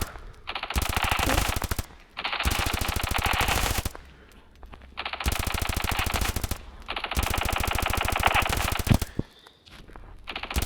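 Bursts of rapid automatic gunfire in the game Standoff 2, four long volleys separated by short pauses, loud and close, with no voices.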